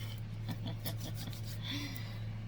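Soft, rhythmic rasping strokes of a sanding block rubbing back and forth, quiet and close, with a low steady hum underneath.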